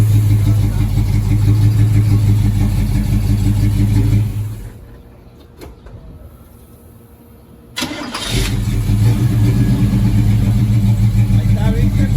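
A Chevrolet C-10 truck engine runs loudly and steadily, cuts out for a few seconds of near quiet, then restarts with a sharp catch and settles back into a strong idle, close by, with a voice speaking over it.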